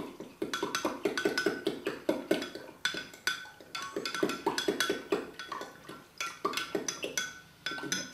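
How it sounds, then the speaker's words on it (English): Sauce of corn flour and hot stock whisked briskly in a pan, a rapid run of clinking, scraping metallic strokes that is close and steady, with a few short pauses. "So give that a good whisk"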